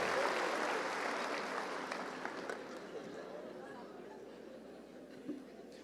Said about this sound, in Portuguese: Palmas para eles, por favor.